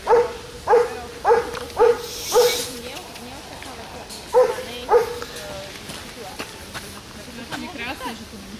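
A small dog barks in a quick series of sharp yaps, then again after a pause, with people talking over and between the barks, at hunting dog field trials.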